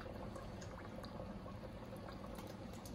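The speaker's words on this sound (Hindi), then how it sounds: "इसके अंदर हम 4-5 टेबल स्पून ऑयल डालेंगे" Cooking oil, about four to five tablespoons, poured into a pan for a dal tadka, a steady low liquid pour running continuously and fairly close, with no talk.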